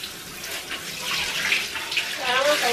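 Tap water runs steadily into a sink or tub to bathe 8-week-old Great Dane puppies, a close, continuous hiss with small splashes, while a person talks quietly over it.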